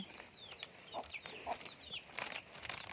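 Chicks and chickens, including a breed with feathered feet, cluck and peep faintly nearby in short, scattered calls with no talk over them.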